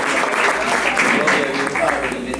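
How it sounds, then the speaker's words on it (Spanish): A church congregation claps loudly and continuously through a short stretch of a Sunday school service, the clapping dense and close and blended with voices. "Demos un aplauso al Señor fuerte, hermano."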